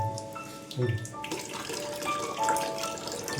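Water streaming steadily from a Water Guard ionizer set to alkaline output in a home, a close, even splashing flow with a brief voice in the background.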